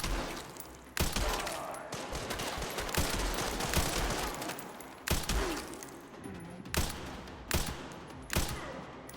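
Gunfire in Resident Evil 9, a run of loud, sharp shots and bursts, some spaced apart and others clustered rapidly toward the end, set against tense game ambience.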